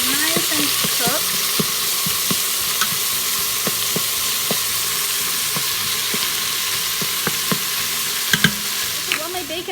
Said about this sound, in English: while my bacon is cooking